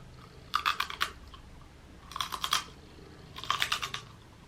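Crispy fried chicken skin shaken with seasoning being chewed up close, three loud crunchy bursts of rapid bites separated by short pauses, with no talking.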